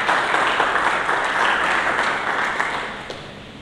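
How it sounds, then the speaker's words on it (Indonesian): Applause fills a church sanctuary as a congregation claps for Jesus Christ, a dense steady patter that holds for a few seconds, then gradually thins and fades toward the end. "Mari kita menyambut, berikan tepuk tangan bagi Yesus Kristus Tuhan."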